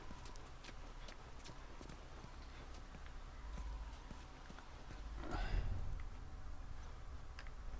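Horse hooves clip-clop at a steady walking pace in The Last of Us, soft and fairly distant under an ambient game soundscape, with a louder swell of movement midway.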